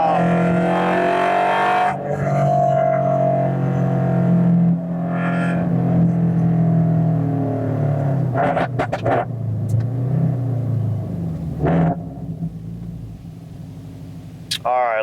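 A car engine holds a steady 5,000 RPM while cruising, during a comparison of 5w30 and 5w40 oil. The drone is loud and even, with brief clicks and a voice talking over it.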